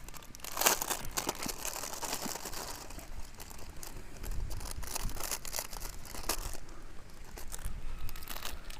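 A polythene bag holding spare drone parts is crinkled and pulled open close by, giving continuous rustling and crackling with a few sharper crunches throughout.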